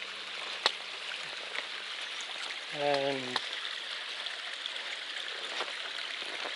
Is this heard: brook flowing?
yes